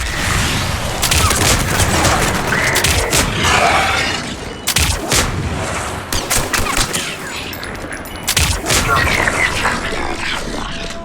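Missiles and gunfire in the video game Mass Effect 3, loud bursts of booming explosions and rapid shots in clusters with short pauses between, dense and close.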